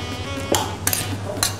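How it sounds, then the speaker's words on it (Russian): A frying pan is picked up and set on a kitchen stove while making shakshuka, with a few short metallic clanks and knocks spread across a low steady hum, close and moderately loud. "Берем сковородочку"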